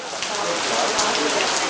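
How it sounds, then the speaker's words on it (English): Steady rain falls on a surface on a rainy school day, a dense hiss of drops pattering throughout, with faint voices in the background. "Kirk, what do you think of the rain?"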